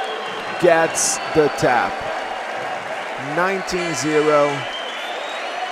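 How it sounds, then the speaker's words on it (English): A crowd cheers and applauds a jiu-jitsu submission at the Brasileiro 2023 match between Victor Hugo and Cleyton Flores, a loud steady wash of noise running under a commentator's talk. "Crowd goes nuts here applauding him."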